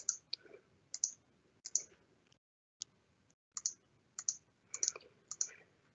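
A computer mouse clicks in quick, crisp bursts, single and double clicks separated by short pauses and one brief silent gap, close and fairly quiet.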